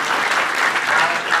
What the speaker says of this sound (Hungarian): tapsoljátok meg még egyszer